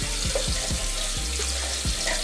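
Hot tap water runs into a bottle being rinsed at a sink, a steady splashing flow with rhythmic sloshing as the bottle is shaken.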